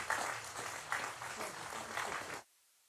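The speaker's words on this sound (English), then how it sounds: "And you'll hear the applause for Matthew Revis's half century." Cricket crowd at a Yorkshire v Derbyshire County Championship match applauding a half century, with steady, moderately distant clapping that stops abruptly near the end.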